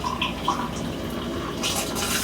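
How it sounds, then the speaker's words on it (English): Water runs from a hot kitchen tap in a steady, close hiss, with a few faint splashy drips and a brighter surge of flow toward the end. "get some water out of the hot tap over here"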